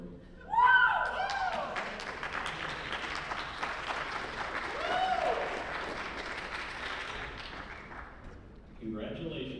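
At a banquet, the audience applauds the North Carolina State University student design competition champions. Clapping swells after a sharp start, with scattered whistles and cheers, then thins and fades under a voice at the end.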